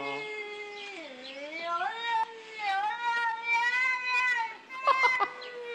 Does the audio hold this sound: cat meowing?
yes